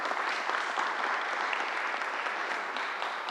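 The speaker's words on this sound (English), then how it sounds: "Let's give her a strong round of applause." A crowd at a public event in the Bronx, where Governor Cuomo is making an announcement, applauds steadily. Dense, continuous clapping stays even and fairly loud for the whole stretch, with no speech over it.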